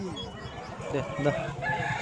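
Roosters crow amid the bustle of a Sunday chicken market in Vijayawada, fairly faint and mixed with background clucking and people talking nearby.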